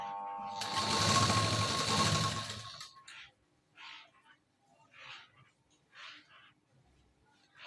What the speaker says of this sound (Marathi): आता इथे आपण शिलाई देऊन घेऊया